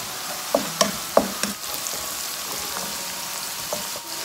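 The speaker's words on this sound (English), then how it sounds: "Saute it, medium high, okay? Just for a minute. The ginger and green chilies." Ginger and green chilies sauté in a pan over medium-high heat with onions and salt, giving a steady close sizzle broken by a few sharp pops and stirring clacks.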